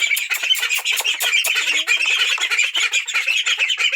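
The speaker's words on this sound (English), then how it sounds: "Here's the ducklings." A crowd of ducklings in a small barn calls nonstop, a dense, shrill chorus of high peeps and squeaks, close and loud, with no voices over it.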